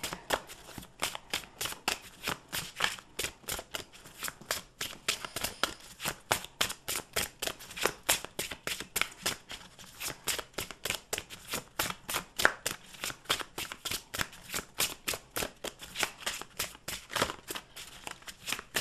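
Large tarot cards are shuffled and cut in a steady run of rapid riffling flicks that go on without a break, close and fairly loud, with no talking.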